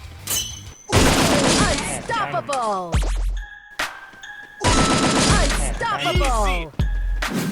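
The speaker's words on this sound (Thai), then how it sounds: "อันนี้ผมพยายามจะยิงหัวนะ" Gunfire in the mobile shooter Garena Free Fire, with bursts of rapid shots and thuds recurring in loud clusters across the clip, mixed with game music tones and effects, and someone talking over it.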